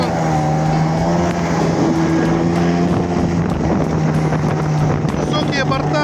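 A motorboat engine drones steadily with wind buffeting the microphone, the hull's hum rising and falling slightly as it runs over waves.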